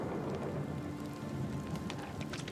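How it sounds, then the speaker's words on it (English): Steady rain falling in the Super Lucky's Tale video game, a continuous even patter on surfaces that holds at a constant level throughout, with no voices over it. "Wait, was it raining the whole time? Or has it just started raining?"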